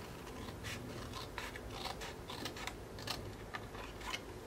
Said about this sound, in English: I'm just going to cut them out with some scissors, leaving a really thin white border.